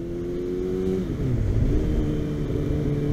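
Kawasaki Ninja ZX6R motorcycle with a de-catted exhaust under way, a steady engine drone whose pitch dips and climbs again as the throttle eases and opens, heard over wind rumble.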